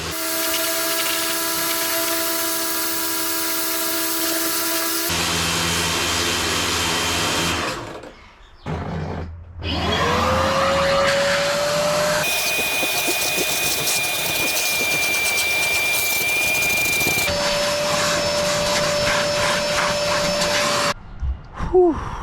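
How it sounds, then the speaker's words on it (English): A wet vac roars steadily while cleaning a part pulled from a wrecked Mitsubishi Lancer Evolution. The loud, continuous whine has a few abrupt shifts in pitch and tone, and the suction briefly drops out partway through. "go over it with the wet vac"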